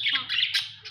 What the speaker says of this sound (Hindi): उमर ये किसके हैं, तोते आपके हैं, कहाँ से लिए, कौन लेके आया था